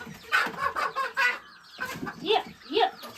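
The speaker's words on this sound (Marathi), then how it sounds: "संध्याकाळ झाली की सगळे कोंबडी घरी येतात" Several hens clucking nearby in short, uneven bursts, with brief pauses between the calls.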